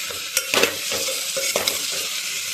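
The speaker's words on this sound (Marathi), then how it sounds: "शेंगा छान परतून घ्यायच्या।" Drumstick pods sautéed and stirred in a pan for drumstick dal curry: a steady sizzle with a few sharp scrapes and clacks of the spoon against the pan, close and alone.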